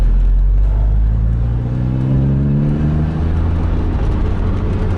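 A badly tuned 1988 Chevrolet Opala Diplomata idles at 500 RPM in third gear, a loud, steady, deep rumble with a slight wavering hum throughout, no voices.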